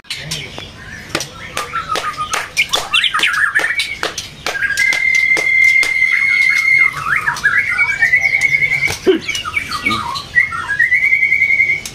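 Murai (white-rumped shama) songbirds, many together, pour out loud whistled phrases, sharp squawks and sustained tonal trills, with many birds overlapping in a busy chorus.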